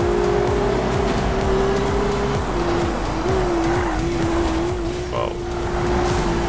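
Porsche in the NFS Rivals racing game driving on sand, a loud steady engine drone with a sustained whine and tyre scrubbing throughout, no talk.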